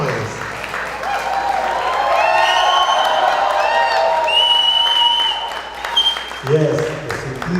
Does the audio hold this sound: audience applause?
yes